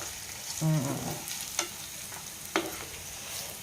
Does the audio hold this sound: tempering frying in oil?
yes